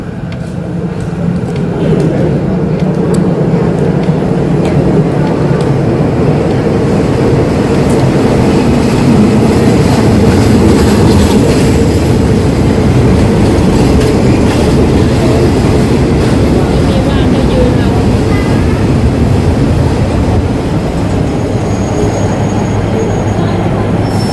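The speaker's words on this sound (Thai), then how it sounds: "รถไฟกำลังจะเข้าสถานีนะคะ" Local train 426 rumbles steadily as it rolls into Sikhoraphum station, Thailand, with continuous heavy low-frequency noise and faint wheel clatter, loud and close throughout.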